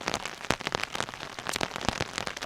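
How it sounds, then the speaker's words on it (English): Rain falls at night during a storm on a kayak fishing trip, a faint, steady, crackling patter of drops with no voices. "It's just been continually raining."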